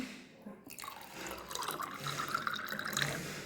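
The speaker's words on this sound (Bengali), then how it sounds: "জল দিয়ে দিচ্ছি।" Water being poured into a homemade mango sherbet, with a steady splashing, trickling pour that starts after a brief quiet moment and continues close by with no talking.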